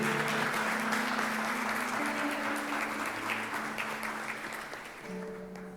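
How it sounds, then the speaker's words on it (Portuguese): A church congregation claps loudly through a worship service, with dense sustained applause and a held musical tone underneath, gradually fading toward the end. "Aplauda mais forte que é para Jesus."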